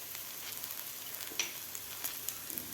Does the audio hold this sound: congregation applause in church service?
no